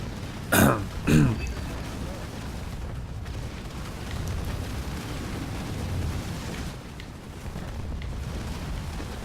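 Bomb blasts in the real-time strategy game Halo Wars 2, two sharp, loud booming explosions close together near the start, followed by a lower rumble of battle noise.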